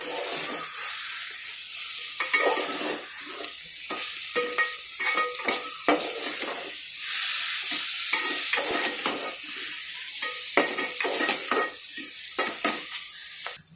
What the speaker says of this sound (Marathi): आता तर याच्यामध्ये आपण वाफळून घेतलेल्या भाज्या टाकून घेऊयात